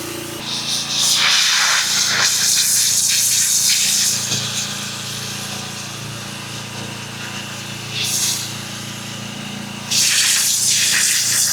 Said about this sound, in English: Give all this a good rinse.